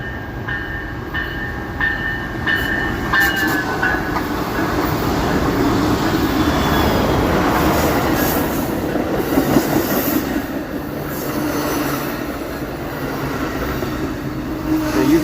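Amtrak's Coast Starlight passenger train, hauled by three locomotives, passes close by with a loud, continuous roar of rolling wheels, rhythmic clickety-clack over rail joints and occasional wheel squeal.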